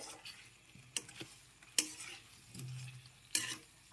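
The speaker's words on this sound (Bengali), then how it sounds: "আলু ফুলকপি এখন মশলার সাথে ভালো করে নেড়েচেড়ে মিশিয়ে নিতে হবে" Fried potato and cauliflower being stirred with spices in a pan for dahi gobhi, heard as a few sharp spoon scrapes and knocks against quiet, low sizzling, close and fairly soft.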